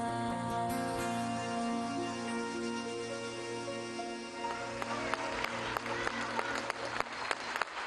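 Audience applause at a concert by a Chechen singer in Grozny swells in as the music fades, sharp scattered claps growing denser and louder toward the end.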